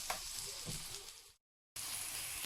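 Steady broadband sizzling of king prawns frying in hot olive oil, continuous and fairly loud, with a brief silent gap midway before the sizzle resumes.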